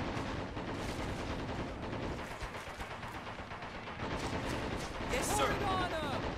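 Dense battlefield gunfire from the Men of War Assault Squad 2 strategy game on a river bank map, a continuous wash of rifle and machine-gun shots with distant booms, steady and loud throughout, with a short voice line near the end.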